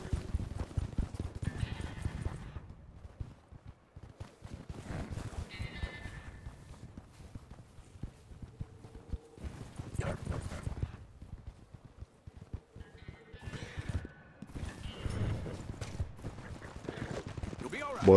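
Hooves of a white Arabian horse in Red Dead Redemption 2, a steady clip-clop of game footsteps running throughout, with occasional animal bleats and faint background sounds.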